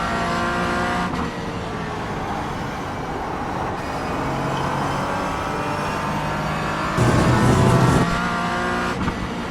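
A race car in a sim racing video game drives uphill with a little braking, its engine drone steady and close, shifting pitch slightly, with a brief louder surge near the end and no talking.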